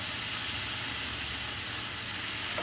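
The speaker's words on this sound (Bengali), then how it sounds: "এখন আমি আবার দিয়ে দিব কিছুটা সয়া সস।" Soy sauce hitting hot chicken chili onion in a pan, a steady loud sizzle and hiss that holds for a couple of seconds with no talk.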